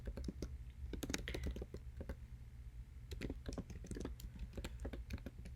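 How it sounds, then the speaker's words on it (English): Typing on a computer keyboard, a quick, uneven run of light clicking keystrokes, close and fairly quiet, with short pauses between bursts and no talk. "you're going to want to type in something simple"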